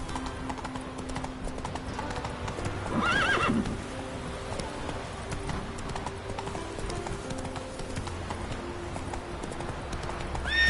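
Roach the horse gallops in the video game The Witcher 3, with brisk, close hoofbeat clip-clops running steadily and a loud neigh about three seconds in.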